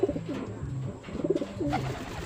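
Pet doves being bathed in plain water coo nearby, soft low throaty calls repeating in short rolling phrases with quiet background noise.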